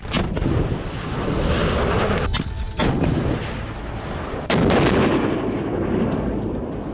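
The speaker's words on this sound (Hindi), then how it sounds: "सेना की त्रिशक्ति कोर ने इतनी ऊंचाई से एंटी टैंक गाइडेड मिसाइल यानी ATGM दागने का अभ्यास किया।" Anti-tank guided missiles fired by infantry during an army exercise at high altitude, a rapid series of sharp booming blasts and cracks with rumbling echoes rolling between shots, loud and close.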